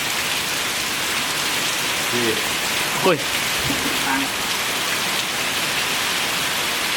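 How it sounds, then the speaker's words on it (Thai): Rain falling steadily on a reforested former rice field, an even close hiss throughout, with a brief voice calling out and a short murmur partway through. "ตอนนี้ฝนตกครับ"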